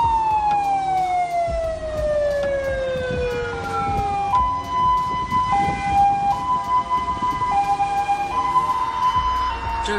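An ambulance siren wails in traffic in China, first a long falling tone, then a steady alternating two-tone pattern, fairly close and loud over the rumble of road vehicles.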